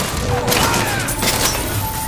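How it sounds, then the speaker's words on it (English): Machine gun fire in the video game Bioshock Infinite, a steady dense rattle of rapid shots with booming low end running through the whole moment, loud and continuous. "These machine guns are pretty accurate for machine guns."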